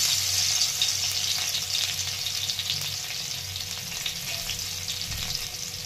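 Garlic going into hot oil with frying green chillies gives a steady, loud, close sizzle that runs the whole time and eases off slightly toward the end.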